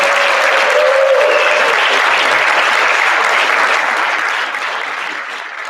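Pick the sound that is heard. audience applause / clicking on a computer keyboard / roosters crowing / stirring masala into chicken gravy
audience applause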